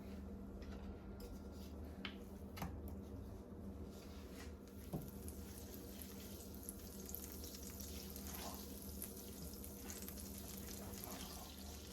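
Lobster frying in a pan of olive oil, butter and coconut oil, a steady soft sizzle and crackle that runs throughout, with a few faint clicks and small knocks over it.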